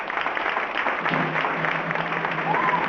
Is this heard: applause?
yes